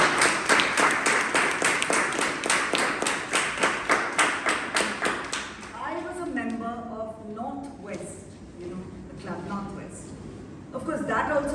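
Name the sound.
applause at Toastmasters club meeting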